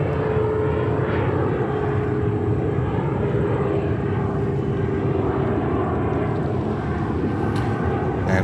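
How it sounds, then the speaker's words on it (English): A Delta Connection CRJ 900 jet at New York's JFK Airport gives off a loud, steady engine roar and whine that holds evenly for several seconds, heard outdoors at a distance with no talking. "It's a CRJ 900, what you hear from Delta Connection."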